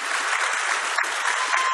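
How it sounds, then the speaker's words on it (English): Steady applause from a convention panel audience at Star Wars Celebration 2017 in Orlando, dense and even clapping throughout with no voices over it. "Round of applause, that's amazing."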